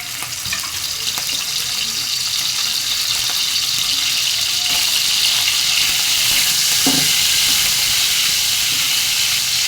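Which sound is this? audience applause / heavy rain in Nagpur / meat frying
meat frying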